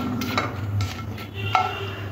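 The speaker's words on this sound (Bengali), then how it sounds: "একদম একটুখানি দিয়ে 2টো লঙ্কা দিলাম। লঙ্কাটা একটু ভাজতে হবে।" Two green chillies fry in half a spoon of oil in a wok for a jujube pickle, a soft low sizzle beneath scraping and clinking of a spoon against the pan.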